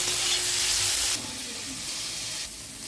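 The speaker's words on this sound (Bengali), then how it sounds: "ততক্ষণ ভাজবো যতক্ষণ না টমেটোটা নরম হচ্ছে।" Chopped tomatoes and capsicum frying in a pan, a loud continuous sizzle and hiss close up that drops in intensity partway through, as if stirred or the heat shifts, then swells again.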